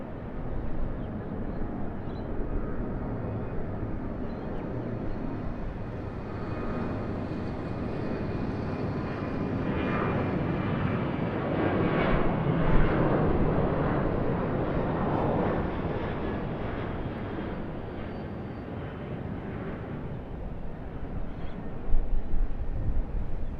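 Qantas Boeing 737-800 jet at Sydney Airport, a broad, steady engine roar that swells gradually toward the middle and stays sustained, heard at a distance with no talking.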